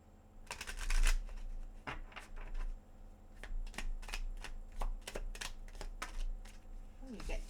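Angel of Light oracle cards being shuffled by hand, with a dense burst of riffling followed by a string of sharp, separate card flicks and taps at close range.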